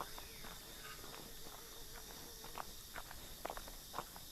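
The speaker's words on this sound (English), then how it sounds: "My character's footsteps sound different on this than it does in the grass." A character's footsteps on soft ground in a flight-focused video game, heard as quiet, irregular soft steps over a constant background hiss. A few slightly sharper steps come toward the end, with no talk.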